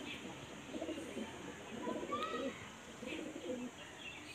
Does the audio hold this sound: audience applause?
no